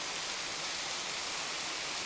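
Waterfall in the Springbrook rainforest, heard as a steady, dense broadband rush of falling water that stays constant and fairly loud from start to finish, with no voices.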